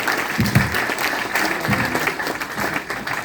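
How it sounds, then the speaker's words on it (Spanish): An audience at an academic talk on science policy gives loud, sustained applause to welcome a speaker, with a few faint voices under the clapping. "recibámoslo con un fuerte aplauso para efecto de que inicie su participación"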